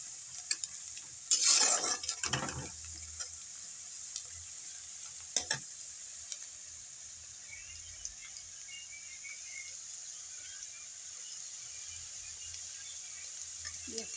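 Onion frying in a home kitchen pan, a steady faint sizzle running throughout with a few louder scraping stir strokes near the start and one more midway.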